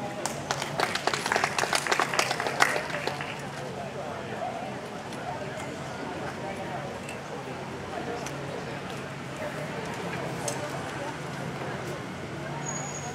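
Audience applause welcoming a performer at a senior-division singing contest final, a dense burst of clapping for about three seconds that quickly thins into a low murmuring room.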